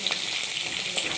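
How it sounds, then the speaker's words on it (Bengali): Rupchand fish frying in a pan of hot oil: a brief, steady, close-up sizzle with fine crackling and no voices. "মাছ ভাজা চলছে রানিং"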